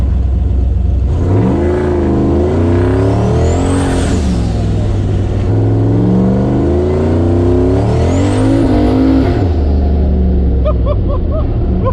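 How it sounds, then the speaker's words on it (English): A 6.0 turbo truck accelerates hard under boost and spins its tires, loud and close, with two rising engine-and-turbo pulls, a whistling spool, and a drop to idle with chirping sounds at the end. "Like it just spun the tires like we're on ice"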